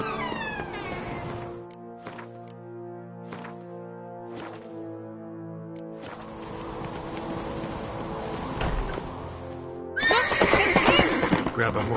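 A horse in the video game Witcher 3 whinnies with loud, drawn-out neighs, then hooves clatter in, with game music and ambience running underneath.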